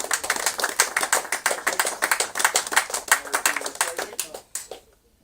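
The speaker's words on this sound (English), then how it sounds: "Big round of applause to Keith Jarvis." A small group applauds the heavy-class winner Keith Jarvis at an AK Max Cup kart race prize giving, with uneven, distinct hand claps running steadily for about four and a half seconds before fading out.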